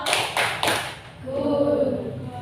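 A group in a classroom presentation gives a thumb clap: three quick, sharp claps close by, followed by voices chanting together.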